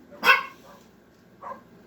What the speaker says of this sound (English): Yeah, I hear a dog out there.